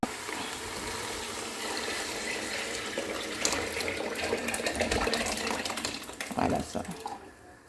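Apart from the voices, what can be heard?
water poured into a bowl to rinse peanut paste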